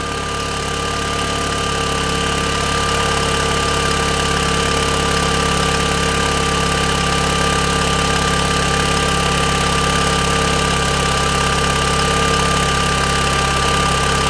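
An Audi TT engine idles steadily and smoothly, a constant close hum with a faint mechanical ticking and no other sounds.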